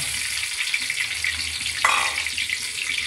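Onions, chillies and garam masala frying for khichuri in a pot on the stove, a continuous loud sizzle with a brief stirring scrape near the end.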